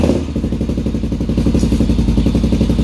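A Honda 400EX ATV engine running on its first start after a teardown and rebuild, now fitted with an exhaust, giving a loud, close, rapid chugging idle that stays steady throughout.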